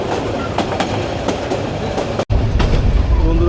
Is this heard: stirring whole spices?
no